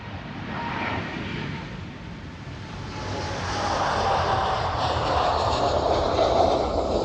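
A jet airliner at Amsterdam Schiphol Airport roars past, its broad engine rush swelling louder over several seconds as it draws nearer, with no talk over it.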